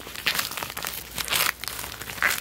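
Plastic blister packaging for a Bandai Thomas Engine Collection Series Edward toy being torn open by hand, giving close, loud crinkling and crackling in three short bursts with softer rustling between, no talking.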